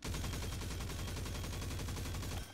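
The Huckleberry, an exotic submachine gun in Destiny 2, fires one sustained rapid burst, a loud close stream of shots that stops abruptly just before the end.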